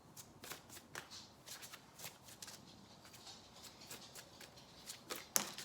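Quiet, close shuffling of a Soul Compass travel oracle deck, with soft rhythmic card riffles and pats repeating for several seconds and one crisper snap near the end, no voices.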